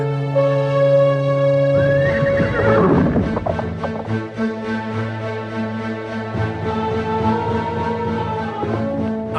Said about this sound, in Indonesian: Ayo kudaku, larilah dengan cepat.